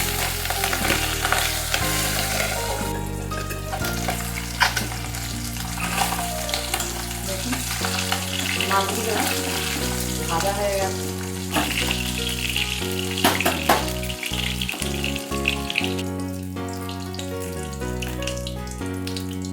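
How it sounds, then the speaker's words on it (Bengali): Fish pieces fry in oil in a pan with a continuous crackling sizzle, partly buried beneath prominent melodic background music. "দেখুন এইভাবে আমি সবকটা মাছ ভেজে নিচ্ছি"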